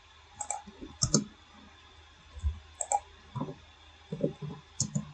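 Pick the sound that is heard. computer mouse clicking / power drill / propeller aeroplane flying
computer mouse clicking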